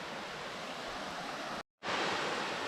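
Fast-flowing river water near Anguthi Sunai falls, a steady broadband rushing wash heard close and loud, with a sharp brief dropout partway through before the flow resumes.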